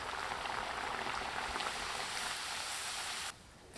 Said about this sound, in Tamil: எண்ணெய் காஞ்சிச்சு, பூரி சுட்டு எடுத்துக்கலாம்.